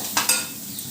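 Tempering frying in a pan for atukula upma (poha upma), with turmeric just stirred in: a soft steady sizzle with two brief stirring scrapes near the start, close and fairly quiet, no talking.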